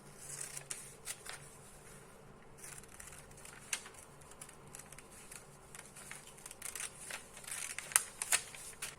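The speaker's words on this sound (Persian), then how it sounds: "حالا اضافه هاشو قیچی میکنم" Scissors snip away excess paper from a hand-drafted ski-collar sewing pattern, a series of short crisp cuts and rustles scattered irregularly, close and faint, with no talk.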